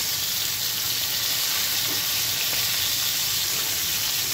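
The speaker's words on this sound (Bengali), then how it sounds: "এই টুকরোগুলোকে আমি জাস্ট মোটামুটি ভেজে নেবো" Pigeon pieces fry in a pan, giving a loud, steady, close sizzle and hiss that runs without a break.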